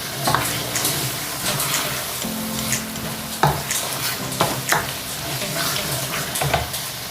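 Spinach for aloo palak fries in a hot pan with a continuous sizzle, broken by repeated scraping and clanking as a spoon stirs it close to the microphone.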